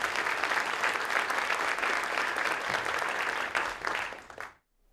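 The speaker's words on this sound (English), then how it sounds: "Let's give that a round of applause." A large crowd at a school district address applauds with steady, dense clapping that fades out abruptly near the end.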